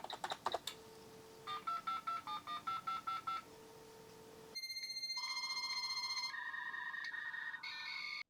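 A modem dials another modem over a phone line: a short burst of DTMF tones, then rhythmic pulsed dialing beeps, followed by sustained screeching handshake tones that shift pitch in steps before cutting off.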